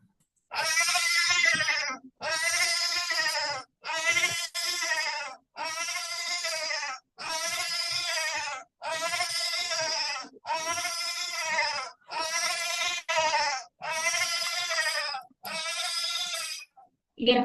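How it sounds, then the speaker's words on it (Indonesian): Goat bleating sound effect played in a Scratch coding project, eleven loud, evenly spaced bleats repeating one after another in a steady rhythm, with nothing else in between. "Kambing ngamuk kayak gitu."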